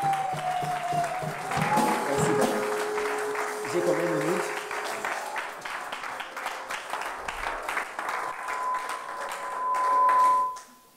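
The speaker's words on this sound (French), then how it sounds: "nous voulons acclamer très fort le Seigneur" Church congregation applauding loudly and warmly, the clapping mixed with voices and cheers and swelling briefly before stopping abruptly at the end.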